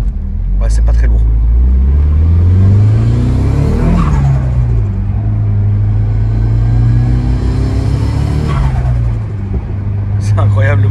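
A car engine's intake roars close by as it revs up and down in two long swells over a steady rumbling idle, with voices talking over it.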